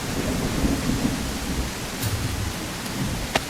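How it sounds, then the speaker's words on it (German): Steady rain and rolling thunder in the Bigfoot video game, a dense continuous wash of rainfall with low rumbles and a few sharp crackles. "Fängt es natürlich an zu regnen, das ist so klar."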